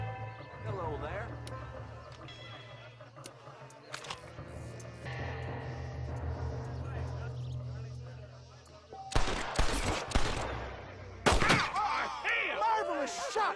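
Gunfire in Red Dead Redemption, a Western video game: sharp, loud shots arrive near the end after a stretch of game voices and background sound.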